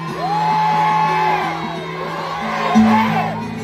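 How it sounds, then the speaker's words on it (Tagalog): Large outdoor political rally crowd whooping, yelling and cheering together in a loud, sustained mass roar with rising shouts near the end. "isigaw na natin ang nasa loob natin!"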